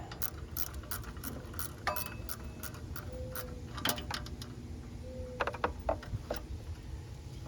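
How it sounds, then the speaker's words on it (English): Ratchet clicking in short bursts while tightening a pulley bolt during a belt change on a 2001–04 Kia Rio, close and moderately loud over a steady background hum, with a few sharper metallic clicks. "just want to get on it and just ratchet it down on there"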